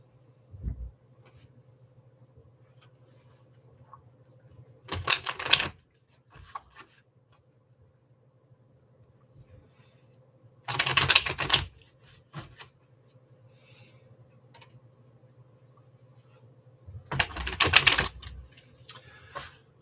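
A deck of tarot cards being shuffled in three brief papery bursts, spaced several seconds apart, with a low steady hum between them.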